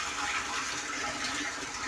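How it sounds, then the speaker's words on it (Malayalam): Water pours steadily into a water tank being filled, a continuous broadband rushing and splashing that stays loud and even throughout, with no voices. "ഞാൻ വെള്ളം അങ്ങനെ നിറച്ചുകൊണ്ടിരിക്കുകയാണ്."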